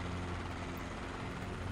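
A helicopter engine in Microsoft Flight Simulator gives off a steady, unbroken mechanical drone with a low rotor hum, holding at an even level throughout.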